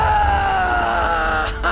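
A gamer lets out a long, loud, exhausted scream after beating every Halo game on Legendary in one stream, a sustained strained yell close to the microphone that trails off near the end.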